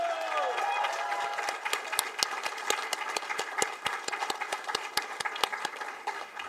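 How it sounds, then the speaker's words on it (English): Audience applause at a 2022 technology leaders program convocation ceremony for an award recipient, a dense run of sharp hand claps from a crowd, steady and close, continuing for several seconds without speech. "keep the round of applause going for Apurva."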